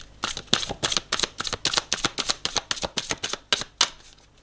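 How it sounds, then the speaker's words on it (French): Tarot cards are gathered and laid face down on a table in a quick run of crisp slaps and flicks, close and uneven, stopping briefly before a final few snaps. "on va aller recouvrir les cartes"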